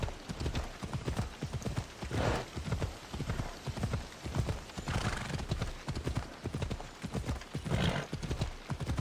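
Horse hooves clip-clop steadily on a road in Assassin's Creed Odyssey, close and continuous, with an occasional whinny breaking through the rhythmic clopping.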